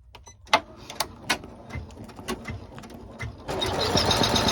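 A sewing machine runs in short bursts of stitching through printed vinyl for a purse, then settles into a steady, continuous whirring hum near the end.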